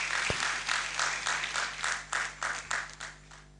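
An audience at a public lecture claps for the event chair, Professor Gallion, a fairly faint, steady patter of hands that swells and fades in loose waves over a few seconds.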